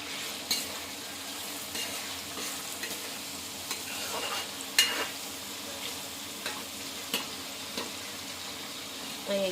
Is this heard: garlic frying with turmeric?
yes